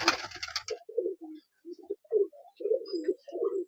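Large high-flying Giribaz pigeons from Murshidabad cooing in a series of soft, low burring phrases, close and clear, after a brief burst of handling noise at the start.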